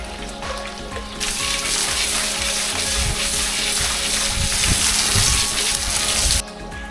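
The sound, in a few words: fresh water filling a fish pond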